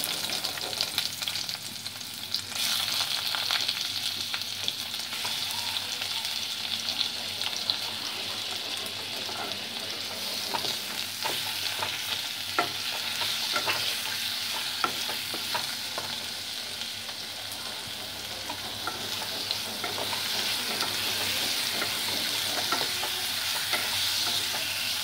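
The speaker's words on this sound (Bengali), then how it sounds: "রসুনটাকে একটু ভেজে নিয়ে আমগুলো দিয়ে দেব।" Garlic and ripe mango pieces fry in oil for a mango chutney, giving a steady, close sizzle throughout with scraping stirs and a faint watery wash in the background.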